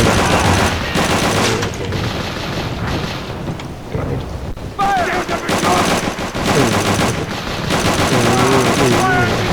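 Dense bursts of automatic machine-gun fire from the Call of Duty: Roads to Victory video game, loud and rapid, with short gaps between volleys and game sounds mixed in.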